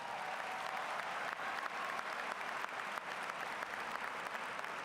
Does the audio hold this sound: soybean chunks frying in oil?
no